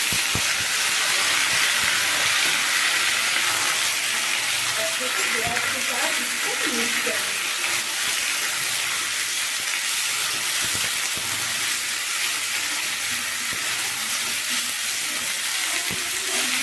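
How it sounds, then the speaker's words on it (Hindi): Chopped turnip and potato sizzle and fry in a pan with browned onions, a steady, dense hiss that runs unbroken at close range. "अब इसमें हम सब्जियाँ डालेंगे, धोए हुए कटे हुए सब्जियाँ से इसको डालेंगे।"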